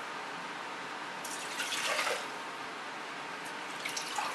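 Water poured for a pickle marinade, a continuous close splashing stream with brief louder gushes partway through, heard alone.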